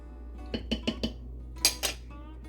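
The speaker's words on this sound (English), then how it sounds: "I'm just going to stir to combine." A spoon stirs sweetened condensed milk, coffee and salt in a bowl, giving four quick scraping clinks followed by two louder knocks against the bowl, close and quiet with no talking.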